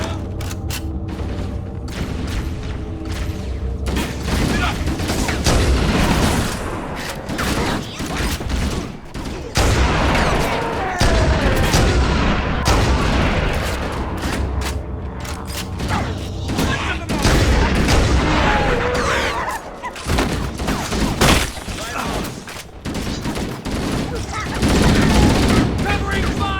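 Heavy gunfire erupts in the video game Halo: Combat Evolved: rapid automatic bursts, repeated shots and booms in dense, loud volleys, with brief lulls between clusters of fire.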